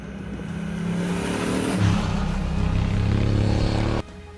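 A parallel-twin motorcycle engine with 270-degree crank and Unicam four-valve heads runs steadily, a loud continuous droning hum that rises slightly in pitch midway, then drops abruptly near the end.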